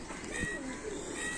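Pigeons cooing at a farm, soft low coos close by over a constant busy background hum.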